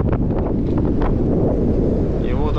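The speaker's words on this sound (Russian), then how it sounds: "Ветер поднимается, порывы такие не кислые." Strong winter wind on the sea shore at Yalta buffeting the microphone in a continuous low roar, with gusts rising and falling and faint sea water noise beneath.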